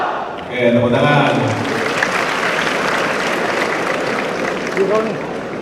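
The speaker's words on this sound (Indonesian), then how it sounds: "Oke, tepuk tangan." A large crowd claps at a transport college graduation ceremony, steady loud applause after a brief spoken cue from a man, whose voice returns faintly near the end.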